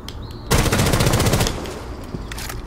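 A loud, rapid burst of automatic gunfire rattles for about a second in Rainbow Six Siege, followed by quieter scattered shots and clatter.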